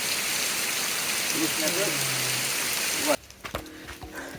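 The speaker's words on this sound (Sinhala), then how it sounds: "තඩි වැස්සක් ආවා" Heavy rain falls near a rock cave in a dense forest, a loud steady hiss of drops for about three seconds that then cuts off, with a voice talking faintly.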